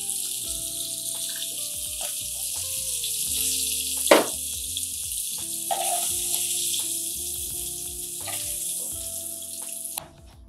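Hilsa fish frying in hot oil, a steady bright sizzle running continuously with a sharp clatter or spatter near the middle and soft background kitchen noises, ending abruptly.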